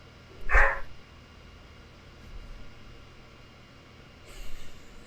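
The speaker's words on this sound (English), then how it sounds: "Why is my dog barking?" A pet dog at home lets out a single sharp bark, then a fainter second bark a few seconds later, both muffled and set against a steady low hiss.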